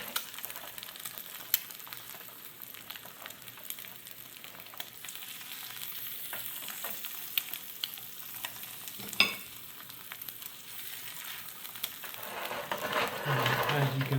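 An egg flipped in a pan of browning butter sizzles steadily for the whole stretch, with a sharp clatter partway through as it turns. The frying grows louder and hissier near the end.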